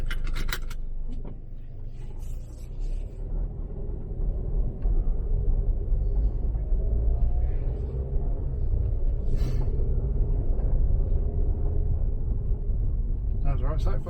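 A Holden Barina, also sold as the Chevy Sonic, with a replaced turbo runs on a test drive, giving a steady low engine rumble that swells after a few seconds, with scattered clicks and knocks and occasional speech.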